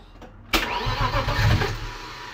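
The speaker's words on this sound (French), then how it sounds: "En un coup de clé, ça a démarré au quart." A turbocharged BMW E36 325i engine starts: a brief starter crank, then the engine catches with a loud burst and settles into a rough, slightly revving idle, close by, with no talking.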